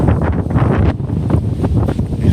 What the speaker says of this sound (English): You see what I mean about this gust of wind out of nowhere?